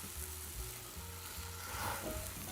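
Burdock root pancake frying in a pan for Chuseok, a steady soft sizzle running throughout with low stirring or pressing thumps and a brief louder clack at the very end.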